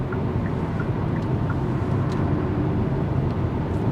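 Steady cabin drone of a 2023 Hyundai Verna Turbo DCT cruising at 100 km/h on the Delhi-Mumbai Expressway: constant road and engine rumble with wind hiss, even and unbroken, with no voices.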